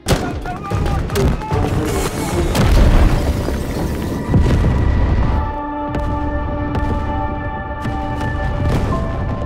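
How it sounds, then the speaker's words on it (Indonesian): Heavy explosions and booms from helicopter missiles in an action film roll in, with bursts of gunfire-like pops and a voice talking over the loud, rumbling action. "datanglah 2 helikopter bantuan yang langsung menembakkan rudal ke arah para pemberontak itu"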